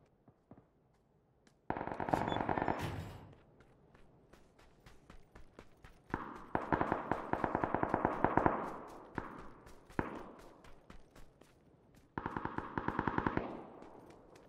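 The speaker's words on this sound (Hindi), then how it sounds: "आवाज तो आ रहा है यहीं पे, कहीं पे फायरिंग चल रहा है।" PUBG video game gunfire: bursts of rapid automatic shots alternate with slower single cracks, some close and loud, others more distant, in several separated volleys.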